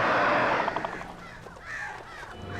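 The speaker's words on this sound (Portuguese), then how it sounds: "os pássaros vão encher o saco" Crows cawing in Alan Wake Remastered: a loud, dense burst of harsh caws at the start thins into scattered nearer calls amid a continuous noisy game ambience, with no talk.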